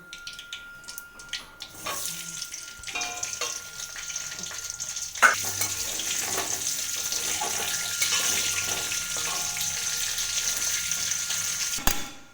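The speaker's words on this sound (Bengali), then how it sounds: "আলু সবটা ভাজবো না, কটা ভেজে নেব।" Large potato pieces frying in oil for biryani, a moderate sizzle that builds after a quieter start, with scattered clinks and splashy, water-like noise over a steady hiss and a sharp knock near the end.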